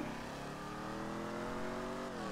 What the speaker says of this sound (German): Wir fahren jetzt auch richtig schnell mit deinem Sportwagen